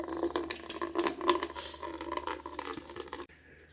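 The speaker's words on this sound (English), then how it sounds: "let's put some hot water in here, make it run out" Hot water runs out of an Avalon bottom-loading water cooler dispenser, model A4BLWTRCLR, a steady close-up splashing trickle into a container that stops abruptly near the end.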